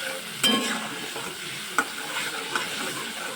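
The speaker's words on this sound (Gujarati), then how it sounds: "હવે આપણે બધું હલાવી દઈશું" Semolina dhokla tempering being stirred in a pan, a steady sizzle with a few sharp clinks of a spoon against the metal, close and moderately loud with no talking.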